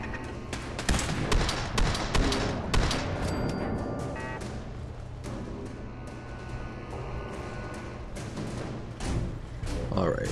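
Automated turrets firing in Fallout 4, with rapid bursts of gunfire and thumping impacts in dense volleys across the clip and a few quieter gaps.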